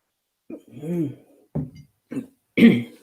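A person clears their throat a few times in short, rough bursts, close and fairly loud against an otherwise quiet room.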